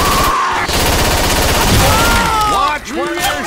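Continuous rapid gunfire in Left 4 Dead 2, loud dense bursts of shots filling the whole stretch, with a shouting voice over the firing.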